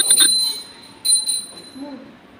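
A small metal puja bell is rung at home during Akshay Navami worship, two bright clear rings, each quickly ringing out and fading, close and fairly loud.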